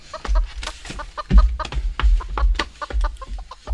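Hens clucking repeatedly in short, choppy bursts, close by and fairly loud, with several birds overlapping in a busy, continuous chatter.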